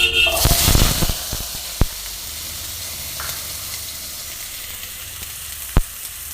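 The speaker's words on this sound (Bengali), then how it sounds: "এবার ভালো করে একটু আলুটা ভেজে নিই" Small cut potatoes sizzling in hot oil seasoned with black cumin, a steady close frying hiss with a few sharp stirring clatters and louder bursts as they first hit the pan.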